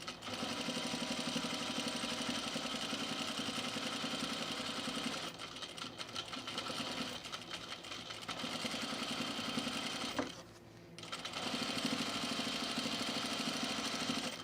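A sewing machine runs in sustained bursts while stitching a curved seam on a blazer, a steady mechanical whir that pauses briefly twice before starting again; fairly close, with no talking.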